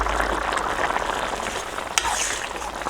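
Boiling potato curry sizzles and bubbles steadily in a pan as coriander powder is stirred in, with a brief scrape of the spoon partway through.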